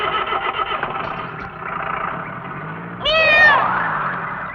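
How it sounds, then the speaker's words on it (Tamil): A cat lets out a single clear, rising-and-falling meow near the end, heard over a low running car engine rumble. "முதலாளி பூனை குறுக்க போகுது"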